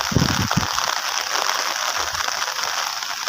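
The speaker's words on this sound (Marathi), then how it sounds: "आणि पाऊस परत चालू झालो." Monsoon rain returning in coastal Konkan: steady, dense hiss of rainfall close to the microphone, with a few low thumps at the start and no voices.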